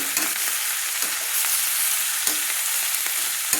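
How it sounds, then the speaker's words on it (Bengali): Sliced tomatoes frying in a pan with onion stalks and potatoes for a prawn dish, a dense close sizzle broken by occasional scraping stirs. "সেই টমেটোগুলো ফালি ফালি টমেটোগুলো দিয়ে দিলাম। দিয়ে আমি একটু নেড়ে নিলাম।"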